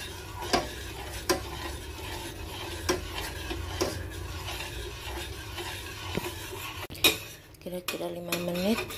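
A utensil scrapes and clinks against a cooking pan while eggs are stirred, with a soft sizzle underneath, irregular strokes followed by a few sharp knocks near the end.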